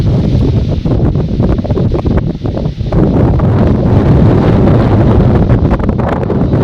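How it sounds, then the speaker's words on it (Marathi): Steady, heavy wind buffeting the microphone, a continuous low roar with rustling throughout and no speech. "बघा वारा सुटलेला आहे"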